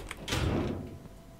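A door in the horror game Devour thuds shut with a single close, nearby knock, its heavy body fading over about a second.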